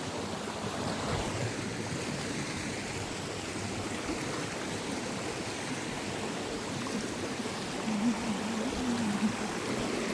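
A stream rushes along a forest trail, its water hissing in a steady, broadband wash that runs unbroken from start to finish at a moderate distance.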